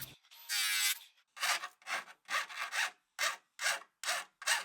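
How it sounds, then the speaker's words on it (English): A metal file smooths the edges of folded sheet metal, with a long rasping stroke followed by a steady series of shorter, evenly spaced scraping strokes, close and clear with no talk. "I used a file to get the edges smooth"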